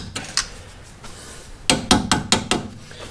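An improvised hammer strikes a suspension part on a Mazda 3 during a home repair: a couple of sharp metallic knocks, then a quick run of five loud, evenly spaced hits close by.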